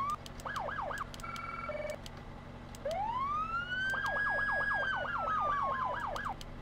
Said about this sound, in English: Do we have sirens?